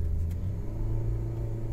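Honda Jazz engine heard from inside the cabin during a quick pull, a steady low rumbling drone from the car with soundproofing installed, with no talking.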